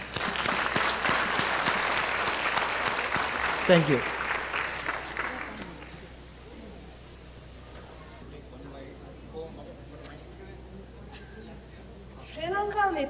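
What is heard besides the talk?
audience applause at anniversary celebration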